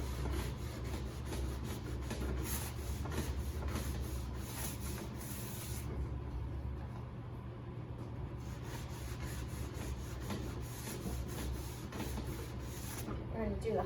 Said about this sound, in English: we are just going to smooth this paint all over the board